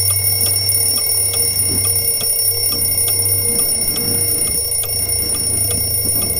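A phone alarm rings steadily and loudly, a repeating electronic tone pattern with sharp pulses over a constant hum, no talking.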